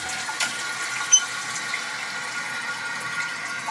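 Water runs steadily as the supply to a newly installed bidet is turned on, a soft continuous hiss with a brief squeak near the start.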